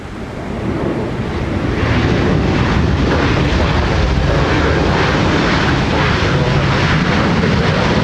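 A Delta airliner landing on runway 30 left rolls in with a loud, steady roar of engine and rushing air that swells in the first second and then holds broadband and continuous.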